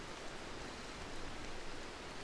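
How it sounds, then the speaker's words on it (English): Steady rain in the Rimworld video game, a soft even hiss of rainfall with no speech over it, quiet and continuous. "More rain. Look how snug they are here. It's rain."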